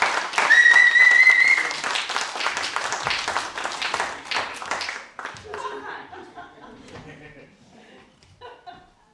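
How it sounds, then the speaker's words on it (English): Theatre audience bursting into applause at the close of a world-premiere stage play, loud and dense at first with some laughter and voices mixed in, then thinning and fading over several seconds. "The audience erupts into applause"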